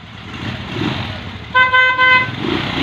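Two quick car horn toots sound out over a rumbling engine and road noise, fairly close and loud, from a car having wiring repairs on its horn, headlights and brakes.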